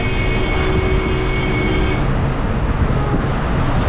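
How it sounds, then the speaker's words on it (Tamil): A Chennai city bus engine drones loudly and steadily throughout, heard from inside the bus, with a whining tone that fades midway. "பஸ் இப்போது ஸ்டார்ட் ஆகிடுச்சிங்க"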